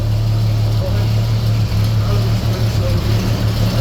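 A 70-year-old military truck's engine runs steadily up close, a loud low rumbling idle with a constant throb and no pauses.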